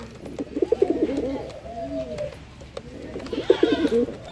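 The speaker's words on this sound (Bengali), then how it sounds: "আমরা এই বোম্বাই কবুতরের ডাকটা আপনাদেরকে শুরুতেই দেখার ট্রাই।" Tiger-coloured Bombay pigeon cooing in two clear bouts of rolling, throaty coos with a pause between, close and fairly loud over a faint background.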